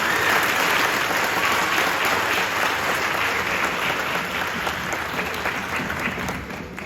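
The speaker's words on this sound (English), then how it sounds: "let's give her a round of applause" Steady, dense applause fills a school auditorium at a fourth-grade strings concert, a full crowd clapping evenly for about seven seconds before easing slightly at the end.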